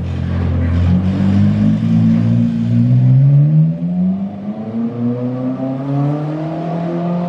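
A Ferrari 458 sports car engine roars nearby and climbs steadily in pitch as it accelerates, then fades slightly as it pulls away.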